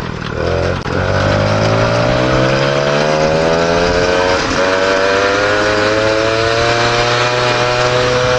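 A Peugeot 103 moped engine accelerates hard and loud, its buzzing whine climbing steadily in pitch after a brief dip at the start, heard up close without talk.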